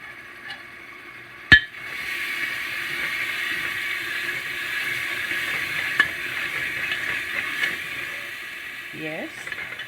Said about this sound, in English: and fry for 2 minutes